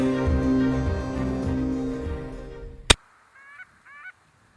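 Geese honk as they fly overhead above a cornfield during a South Dakota hunt, a loud chorus of calls that cuts off with a sharp click, followed by a few fainter honks.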